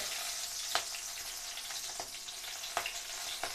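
Mustard seeds, green chilies and curry leaves fry in hot oil for a Chettinad baby corn gravy, giving a steady close hiss of sizzling broken by several sharp popping crackles.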